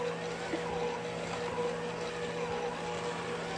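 A stand mixer with a paddle attachment whips ice cream in a steady, even motor whir that holds a constant tone and continues without a break.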